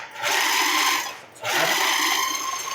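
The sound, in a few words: food processor pulsing meatball ingredients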